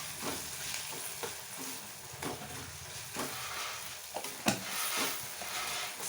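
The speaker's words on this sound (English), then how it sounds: "Stir it very well and let it cook till the raw smell leaves." Minced mutton keema with ginger and garlic frying in a pan, a steady close sizzle and hiss with intermittent stirring scrapes and a few sharper clanks of the spoon against the pan.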